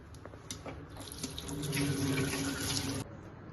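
Tap water runs over yellow lemons being washed in a sink, a steady close splashing stream that builds after a few soft drips and handling sounds, then stops abruptly near the end.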